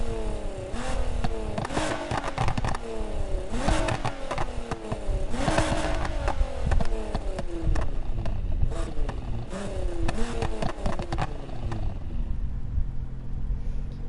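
A car engine in the game Need for Speed Heat revs up repeatedly, the pitch climbing and dropping with each gear change, loud and steady before easing off near the end.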